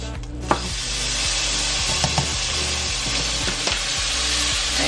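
Garlic frying in a pan of flour for creamy Tuscan shrimp, a steady loud sizzle with occasional scraping stirs, no voices.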